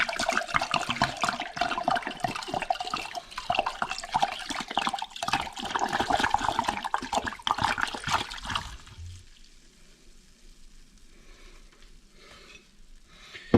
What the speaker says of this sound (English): So the first thing I will add is a liter of wine.